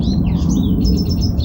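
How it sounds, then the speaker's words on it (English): Small birds chirping in a backyard garden, quick high tweets and repeated short calls close by over a low steady background rumble; no one speaks. "Okay, the birds."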